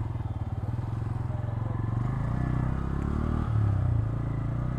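Motorcycles and auto rickshaws at the Mawa ferry ghat, with a close engine chugging at a steady idle, then a low rumbling rev-up and a rough vehicle passing near, over a busy background.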